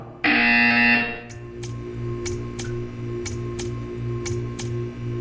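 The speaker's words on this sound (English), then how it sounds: "You will hear a buzzer." A loud electronic buzzer from the video game Portal 2 sounds for about a second, followed by a steady hum with regular ticking clicks.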